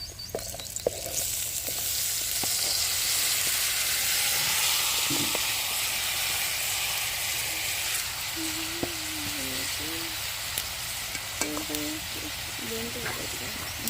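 Tomatoes and soaked dal fry in a pan with a steady, loud sizzle and hiss throughout, with occasional stirring scrapes near the end.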